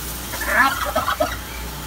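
Brief burst of turkey gobbling, a few warbling calls close by over faint background noise.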